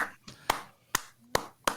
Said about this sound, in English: I slow clap that into a fast clap